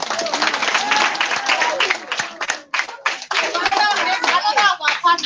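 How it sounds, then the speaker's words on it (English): Loud, close rhythmic hand clapping from a crowd, including children, at a birthday celebration, with voices and speech mixed in and a few brief gaps in the clapping. "Clap your hands."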